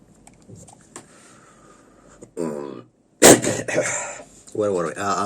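A few harsh coughs and throat-clearing bursts, loud and close, broken by short pauses and mixed with a voice.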